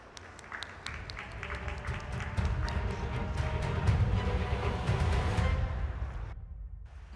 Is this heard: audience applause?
yes